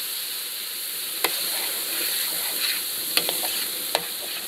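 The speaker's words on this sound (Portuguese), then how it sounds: "Você vê como mudou a temperatura da panela, ó, que entrou os legumes, parou um pouco o chiado, porque é muita água." Vegetables sizzle in a large paella pan over a fire, a loud steady frying hiss with a few sharp scraping clicks of stirring, close up and with no talking.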